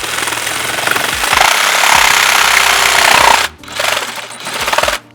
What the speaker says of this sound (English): You gotta get your jigsaw in there. Okay, so now I'm just gonna cut this line.